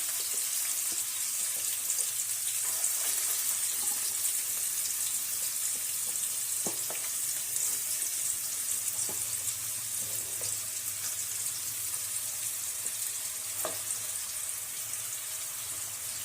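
Onions and cumin fry in a pan with a soft, steady sizzle and hiss, broken by a few light clicks and taps, faint and continuous with no talking.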